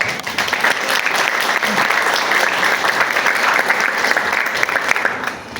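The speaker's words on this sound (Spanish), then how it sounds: "la recibamos con un fuerte aplauso" Steady, dense applause from a conference audience fills the whole stretch as a speaker is welcomed, a loud unbroken wash of clapping without any voices.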